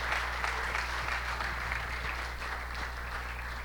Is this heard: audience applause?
yes